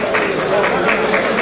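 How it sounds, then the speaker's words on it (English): A crowd claps steadily at a secondary school's centenary celebration in Ilorin. The dense, continuous applause fills the space for the whole stretch, with voices mixed into it. "Please let's give a round of applause."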